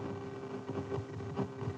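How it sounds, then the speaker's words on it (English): Audio output from the loudspeaker of a 1962 AN/TPS-25 ground surveillance radar tracking a moving target, a steady electronic Doppler return tone with a faint wavering pulse, heard continuously and fairly loud over a noisy, hissy background. "Hear the sound coming from the radar's loudspeaker."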